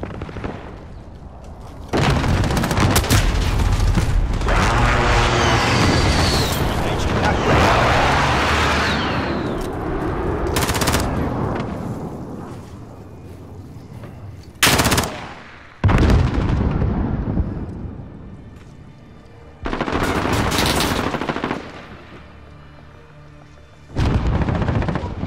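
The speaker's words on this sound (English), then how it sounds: "Allied precision airstrike incoming." Airstrike blasts and gunfire in a video game: heavy booming explosions and bursts of shooting rumble loudly across the battlefield, with sharp repeated hits and short quiet gaps between salvos.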